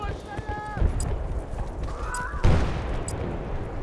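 Gunfire crackles in Battlefield: Bad Company 2 on the Panama Canal map in Conquest mode, with a few sharp shots standing out over a busy battlefield din.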